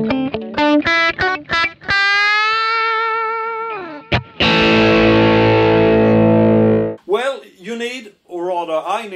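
An electric guitar through studio EQ and a single delay, on a Kemper profile, with a bright, echoing tone plays quick notes, then a long sustained chord that trails off, followed by a few more loud strums.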